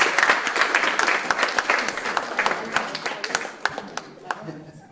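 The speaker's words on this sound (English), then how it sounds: "give him a round of applause" An audience claps for a student at a spring piano recital: dense, steady applause from a crowded room that holds for several seconds and then begins to thin toward the end.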